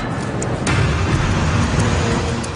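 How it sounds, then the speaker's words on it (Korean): A truck pushes through a busy street in central Nairobi, its engine rumbling loudly and continuously over dense surrounding traffic noise close by. "트럭이 붐비는 거리를 뚫고 달립니다."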